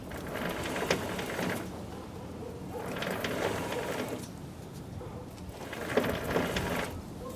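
A Kozachok mini tractor runs in reverse gear with its chain drive, giving a steady mechanical clatter and whirr that swells and fades in a few repeating cycles, heard close with no talk.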